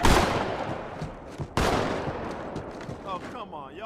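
Loud, dense bursts of gunfire from Halo 2 Anniversary fill the opening, then a sharp blast at about one and a half seconds is followed by decaying explosive rumble and swooping game effects.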